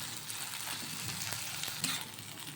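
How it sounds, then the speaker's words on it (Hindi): A chokha mixture being roasted in a pan gives off a soft, continuous sizzle with faint stirring scrapes, quiet and close, with no voices. "बस इसको अच्छे से भून लेंगे"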